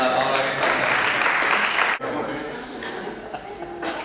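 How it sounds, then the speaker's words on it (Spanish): A room of workshop attendees claps together for a few seconds, dense applause that breaks off sharply, then resumes more thinly, with voices mixed in. "Puedes aplaudir a la palabra que está."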